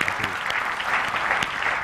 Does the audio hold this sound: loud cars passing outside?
no